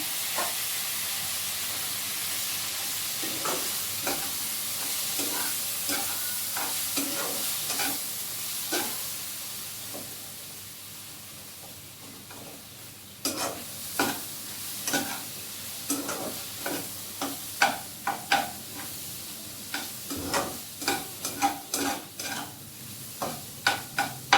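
Onion fries in a pan with a constant hiss of hot oil and repeated stirring strokes, sparse at first and then quicker and louder, close by with no talk.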